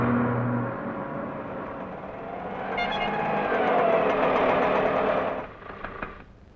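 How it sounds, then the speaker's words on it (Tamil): A vehicle approaches along a road in a Tamil film scene. A steady engine rumble with horn-like tones swells louder through the middle, then drops away near the end. "இது வண்டி வருது"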